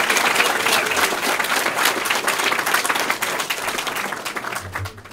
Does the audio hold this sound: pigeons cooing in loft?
no